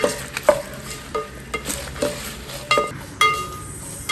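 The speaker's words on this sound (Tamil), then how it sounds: "நல்லா எண்ணெயில் பொரிச்சுக்கோங்க." Whole ingredients frying in hot oil for kovil puliyodharai, a soft steady sizzle broken by repeated clinks and scrapes of a spoon stirring the pan at close range, with no talking.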